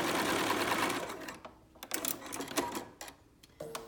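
Sewing machine stitching fabric squares for half square triangles, a steady close whirring run that slows and breaks into short stop-start bursts and clicks toward the end.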